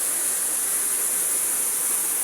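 Busay waterfall in Barangay Kalwit, Narciso, Quezon pours with a constant, even rush of water, a steady wash of noise with no breaks and no voices.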